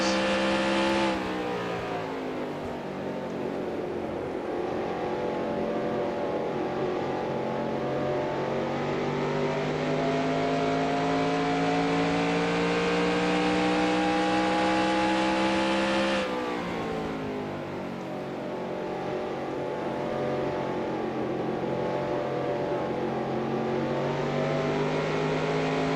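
Racing truck engines roar steadily in a NASCAR Racing 2003 game session of a 1995 SuperTruck Series race at Milwaukee. A continuous loud, high drone holds across the run, with pitch swells and a sharp gear-shift drop midway and no talking.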